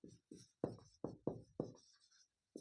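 A pen or chalk writes on a board or paper during a Class 10 coordinate geometry lesson, with quiet bursts of short scratchy strokes, several in quick succession, then a pause and one more stroke.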